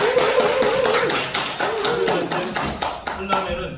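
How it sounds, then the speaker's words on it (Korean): Lecture audience applauding, a burst of many hands clapping in a dense rhythm that thins out toward the end, with a voice briefly over it. "박수 좀 주세요."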